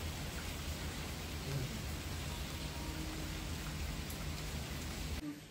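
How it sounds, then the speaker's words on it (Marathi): Steady rain pours down without a break during a wet-season spell, a dense even hiss of drops on surfaces close by, with no talking. "इथं पाऊस चालूच आहे, झड लागली।"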